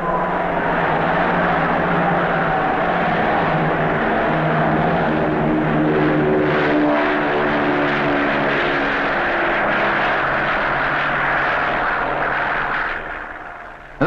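Loud, continuous droning of an Avro Shackleton patrol aircraft's propeller engines, a steady throbbing hum holding close and level before easing slightly at the end.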